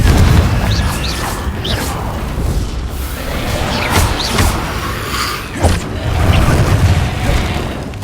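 Confringo blasting spells in Hogwarts Legacy burst in repeated loud booms and whooshes across the stretch, with dense magical combat noise between blasts.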